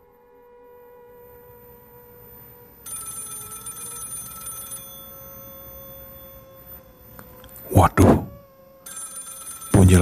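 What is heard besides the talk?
telephone bell ringing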